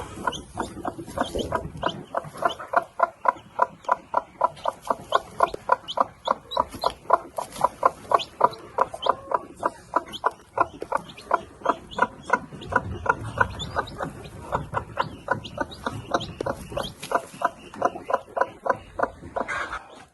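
Chicks and hens cluck in a fast, steady string of short, repeated calls, close and fairly loud, with occasional softer clucks and rustling beneath.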